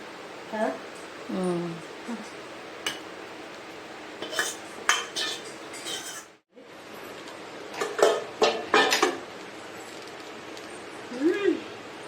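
Pans, dishes and cutlery clatter in a home kitchen after cooking a prawn and brinjal curry, with scattered metallic clanks and scrapes in bursts, loud and close, and a voice talking briefly between them.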